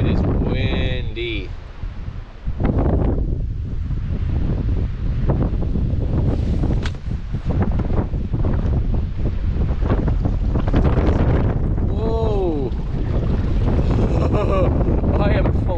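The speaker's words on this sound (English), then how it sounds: "it is windy" Strong wind roars steadily into the microphone the whole time while paddling on a lake, a loud, buffeting rush with faint splashing water beneath it.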